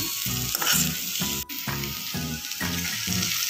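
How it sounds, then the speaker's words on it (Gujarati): Finely chopped onions fry in a pan with a steady, close crackling sizzle, while a utensil stirs them in a regular scraping rhythm underneath. "અહીંયા મેં કાંદા લીધેલા છે એને ઝીણા ઝીણા સમારી લીધેલા છે એને નાખીશું હલાવી લઈશું"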